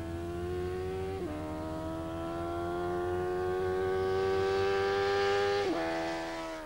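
A Spondon Suzuki GSX Turbo drag bike makes a run at Cranfield 1987, its engine note droning steadily upward in pitch, dropping at a gear change and climbing again, loud and close.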